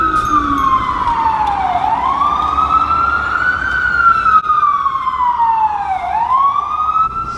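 An ambulance siren wails loud and close on a New York street, its tone sweeping slowly down and up in long cycles over low traffic rumble.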